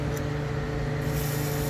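Steady hissing spray from an aerosol can aimed at bolts under a 2014 Ford Mustang V6 during catalytic converter removal, continuous and close for the whole short burst.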